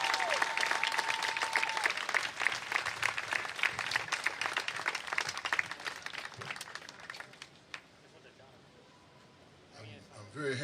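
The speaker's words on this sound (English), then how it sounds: "give a really, really, really big round of applause for Frank Chapman" Loud, dense applause from a rally crowd welcoming Frank Chapman at a Milwaukee march against racism, sustained for several seconds before thinning out, with a few voices and a steady tone early on.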